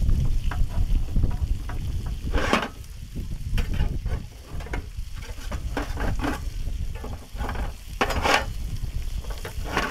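Food sizzling on a griddle set on a Weber gas grill, a steady crackling fry with occasional louder pops and scraping bursts, close and continuous with no talking.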